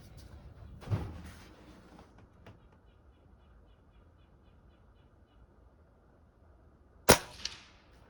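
Daisy 1101S air rifle fired at a can 50 yards away outdoors: a soft muffled pop near the start, then a sharp loud crack with a brief metallic ring about seven seconds later, quiet between.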